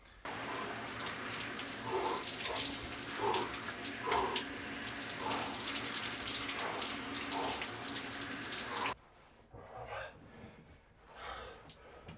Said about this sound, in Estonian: Kohe lähen külma duši alla, see on ainuke asi, mis päästab mind hommikul.